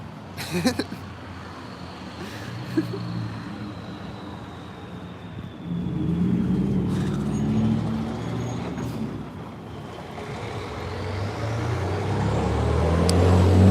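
A car driving past an ATM, loud low road rumble swelling and holding near, with traffic noise and a brief burst of sound early on.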